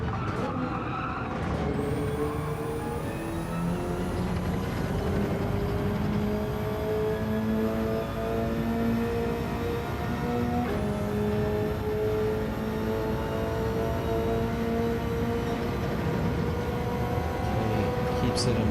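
A Gran Turismo 7 race car engine drones loudly and continuously, its rising and falling harmonic pitch tracing a downshift to second and a quick upshift to fourth during a practice lap.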